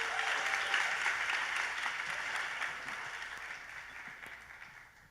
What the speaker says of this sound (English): let's give him a round of applause and welcome him to the stage